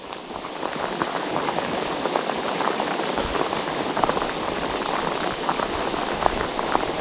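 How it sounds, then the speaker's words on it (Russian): Steady rain patters on a river during a fishing trip on the Moksha near Ryazan, a dense, even hiss of drops with sharper splashes scattered throughout and no voices. "Дождик не прекращается."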